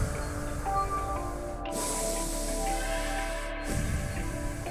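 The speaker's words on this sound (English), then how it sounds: "Nose only power breathing." Forceful nose-only power breathing during a guided breathwork session, with rhythmic sniffing inhales and exhales over a steady background drone.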